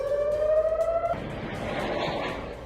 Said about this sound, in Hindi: दक्षिण इजराइल में एयर रेड अलर्ट सायरन से हड़कंप मच गया।